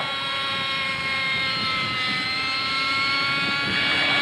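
A radio-controlled model helicopter at a 1989 scale-model competition performs aerobatic somersaults and rolls, giving a steady, loud engine and rotor whine with a constant pitch for about four seconds and no voices.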